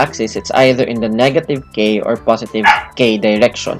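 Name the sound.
dogs barking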